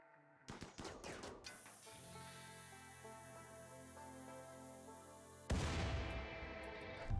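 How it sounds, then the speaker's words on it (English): Gunfire against a mechanoid automortar in the video game RimWorld: an opening burst of rapid shots, then a sustained tonal drone with faint crackles, and a renewed dense volley of fire toward the end. "everyone can safely fire upon the automortar until it is destroyed"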